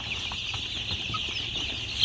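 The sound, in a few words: two-week-old local chicks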